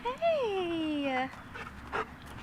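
A dog gives a long, sliding, high whimper that falls in pitch, followed by soft breathy panting and small yips nearby, with a person's voice briefly underneath.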